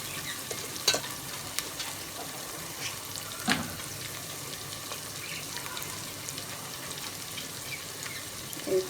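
Chopped ridge gourd (tori) sabzi with turmeric and salt frying quietly in a pan, a soft continuous sizzle broken by a couple of sharp spoon clinks as it is stirred.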